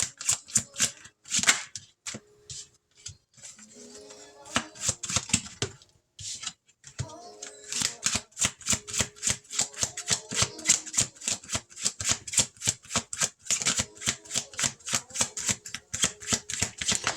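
Tarot cards are shuffled in steady, fast riffling bursts with brief pauses, close and fairly loud, with no voices.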